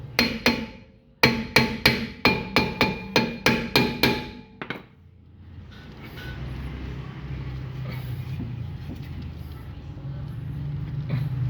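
A car brake drum, stuck and sprayed with WD lubricant, is struck with a hammer about a dozen times in a steady, ringing metallic rhythm, then the blows stop and a duller rumble and faint voices follow.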